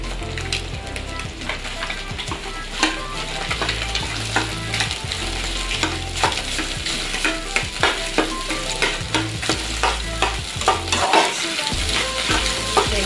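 Indonesian nasi goreng with bakso being stir-fried in a hot pan, a loud, continuous sizzle with rhythmic scraping and stirring of rice throughout, no voices.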